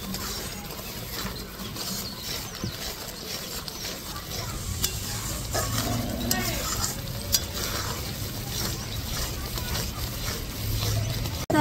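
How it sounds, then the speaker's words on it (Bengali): A pan of sugar syrup with ghee, cooked down for motichoor laddu, bubbles and hisses steadily while a spoon scrapes and stirs in repeated rattling strokes, close up and growing slightly louder, with no talk. "গাওয়া ঘিটা দিয়ে দিব। লাড্ডুর টেস্টটা খুব সুন্দর আসবে, খেতে খুব ভালো লাগবে। আবারও ভালো করে নাড়া দিয়ে নিব।"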